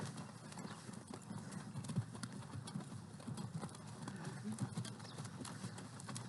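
A horse's hooves clip-clop at a walk on a ranch during a group riding lesson as the rider brings it forward into line. The hoofbeats are faint and spaced in an uneven rhythm over quiet background noise.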